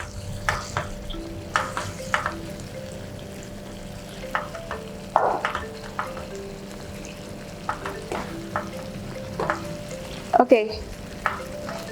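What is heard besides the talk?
prawns cooking in boiling Kung Pao sauce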